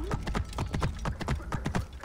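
A horse's hooves clip-clop in Assassin's Creed Origins, a steady, close, rhythmic trot of about four evenly spaced beats per second, with no talking over it.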